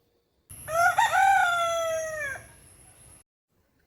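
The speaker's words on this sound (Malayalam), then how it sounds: "പൂവൻ കോഴി കൂവുന്നത് കൂട്ടുകാർ കേട്ടിട്ടില്ലേ" A rooster crows once, loud and close, a single drawn-out cock-a-doodle-doo that fades at the end.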